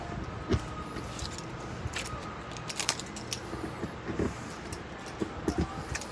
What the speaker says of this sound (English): Just find the correct key to open this compartment.